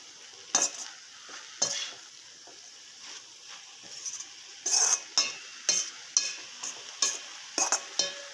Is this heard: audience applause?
no